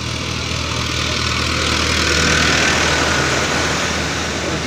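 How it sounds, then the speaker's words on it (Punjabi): A tractor drives through deep floodwater on a village road in Punjab, its engine putting out a steady, loud, continuous rumble with a constant broadband wash over the full few seconds and no voices. "ਆ ਮੋਹਰੇ ਟਰੈਕਟਰ ਆਉਣ ਡਿਆ"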